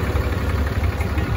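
A 2008 Dodge Ram 3500 Laramie with a Cummins turbo diesel idles steadily, a low, even rumble with a faint vibration that holds without a break for the short moment.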